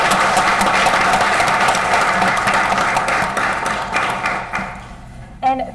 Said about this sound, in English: give another round of applause to all of our outstanding teachers